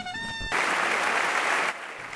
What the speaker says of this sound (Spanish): con fuertes aplausos por los parlamentarios españoles, Calderón fue despedido